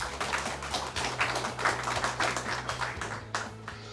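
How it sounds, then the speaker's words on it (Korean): An audience at a 2·28 Democratic Movement forum on UNESCO Memory of the World heritage claps to welcome a speaker, dense sustained applause filling the room over a low musical backing. "큰 박수로 환영해 주십시오."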